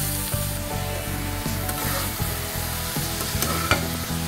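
Onions and chicken fry in a little oil and are stirred, a close, steady sizzle broken by regular scraping strokes of a spoon against the pan.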